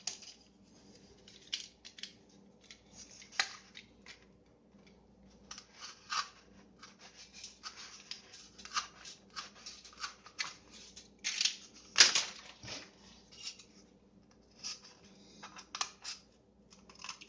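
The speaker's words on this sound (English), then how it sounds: "That's why I used the box cutter." A box cutter slices around a circle through material for a napkin ring holder, giving faint, close scraping and crisp cutting strokes in irregular bursts, with a sharper snap near the middle.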